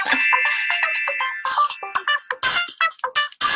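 A phone ringtone plays loud and close, a bright electronic melody of short repeated tones in quick bursts with brief gaps, no voices over it.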